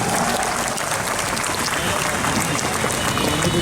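Audience applause in a hall at a political gathering honouring a guest, dense and continuous clapping at full volume for the whole stretch, with crowd noise mixed in.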